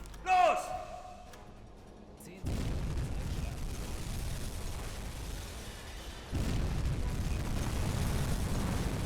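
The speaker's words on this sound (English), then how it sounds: "There we go, 2 good hits on that tanker there, and heaps of explosions." Torpedo hits exploding against a tanker in the submarine game UBOAT: a sustained roaring rumble that swells suddenly, then surges louder again a few seconds later, heavy and continuous with no talk over it.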